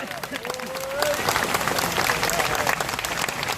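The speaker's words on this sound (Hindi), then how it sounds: "जोरदार तालियां हो जाए" Crowd applause rises sharply at a political rally at Jantar Mantar, Delhi, a dense, steady roar of clapping that swells after a second and holds, with a voice speaking over it.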